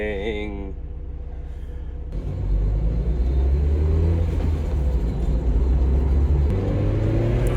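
A Mazda Miata with a newly installed muffler drives along, its engine and exhaust rumbling loudly and steadily, with a faint whine in the opening seconds before the drone takes over.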